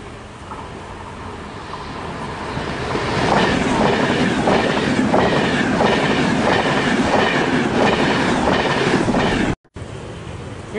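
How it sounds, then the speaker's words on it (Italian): A train passes through Camnago station in Italy without stopping: a loud rumble builds into steady clickety-clack of wheels over the rails, close and sustained, with a brief dropout near the end. "Attenzione, treno in transito al binario 1, allontanarsi dalla linea gialla."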